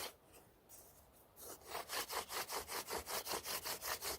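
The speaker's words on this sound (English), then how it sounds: "This is getting the spindle and the fireboard mated together." Wooden bow drill spindle being worked against a fireboard, starting with a few scattered strokes then settling into a fast, regular back-and-forth rasping rhythm of about a dozen close, even strokes.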